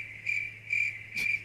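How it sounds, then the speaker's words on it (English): Crickets chirp in three evenly spaced, shrill pulses over a faint steady hum, a short sound effect with no talking. "Just crickets."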